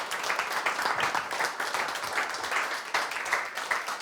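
An audience at a documentary screening event in Corrèze applauds, giving a continuous, moderately loud wash of clapping without voices.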